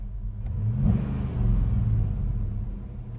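The 5.0L V8 in a 1993 Ford Mustang with a manual transmission idles with a deep, steady rumble and one brief rev, recorded close and with no talking.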